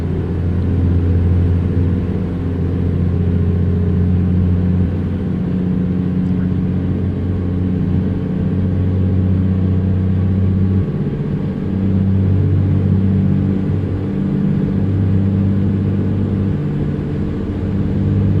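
An old-school Peterbilt semi truck, a 150 hp rig hauling about 57,000 lbs, drones with a steady low engine rumble that holds at high RPM under heavy load. Slight swells in pitch come and go over the continuous close hum.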